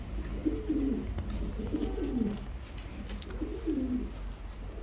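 Pigeons coo in soft, repeated throaty rolls at a feeding spot, three clear phrases over a steady low background murmur, fairly close, with no talking.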